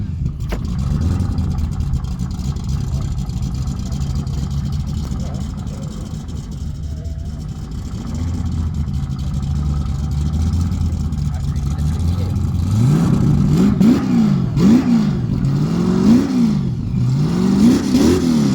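A Chevrolet Camaro engine rumbles at a classic car show loudness contest, rising into repeated hard revs near the end, loud and close with crowd chatter around it.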